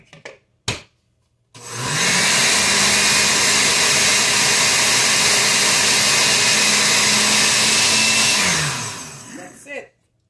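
A blender whirs loudly and steadily for about seven seconds as it mixes crepe batter, starting up after a few brief knocks and winding down at the end.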